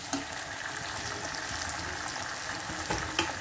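Fresh peas and potatoes fry in a pan for a dhaba-style carrot and pea curry, a continuous close sizzle and crackle with a few light stirring taps.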